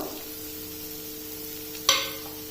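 Ground spices sizzle softly in a hot pan for a pepper egg roast, a low steady frying hiss broken near the end by one sharp clink of a spoon against the pan.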